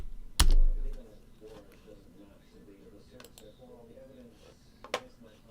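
Computer keyboard typing sounds in short bursts of clicks and taps, with a loud thump near the start, a sharp click near the end and faint talk in the background.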